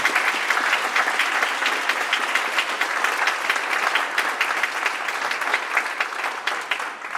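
A steady round of audience applause for the panelists of an environmental diplomacy discussion, dense and even throughout, with no talk over it.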